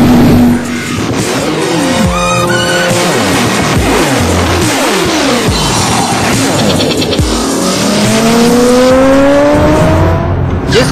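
Motorcycles of a bikers gang doing stunts on Delhi roads, loud close engines revving hard with repeated rising and falling pitch sweeps as bikes accelerate and pass, over continuous traffic noise.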